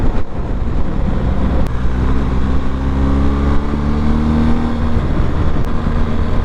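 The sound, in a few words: BMW motorcycle engine revving while upshifting gears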